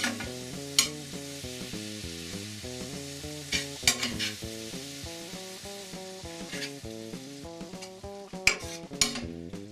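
Ground beef for homemade taco meat being stirred in a pan, a soft sizzle under repeated clinks and scrapes of a spoon against the pan, with a rhythmic tonal pattern running underneath, close and without talk.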